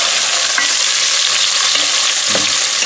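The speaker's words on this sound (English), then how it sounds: "Okay, it's time for the onion now. Put all the onion in there." Chopped onion frying in olive oil in a pan for pork ribs and chicken adobo, a steady loud sizzle with a few scraping stirs of a utensil, no talking.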